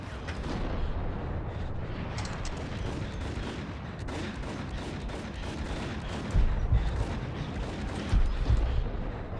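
Enemy shotguns fire in the PC game Max Payne, a dense stretch of rapid gunfire and blasts layered with rumbling action, with two heavier booming shots near the end.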